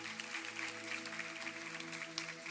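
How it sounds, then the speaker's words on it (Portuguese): Church congregation applauding at a worship service, a steady broadband wash of clapping held under sustained organ or keyboard tones throughout. "Aplauda ao Senhor."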